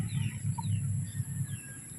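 Chickens clucking and murmuring close by in a village in a steady low chorus, with a brief bird chirp over the flock.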